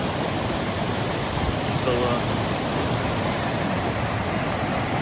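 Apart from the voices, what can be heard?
rushing high creek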